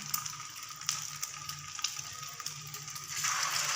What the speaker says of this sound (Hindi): तो अच्छे से इसको इस तरीके से अंडे में हमने डिप किया और ये ऑयल में डाल दिया।